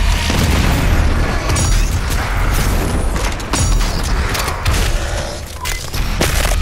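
Loud, sustained booming blasts and rumbling bursts from DOOM Eternal fill the whole stretch, a dense barrage of explosions with crackling pops layered on top.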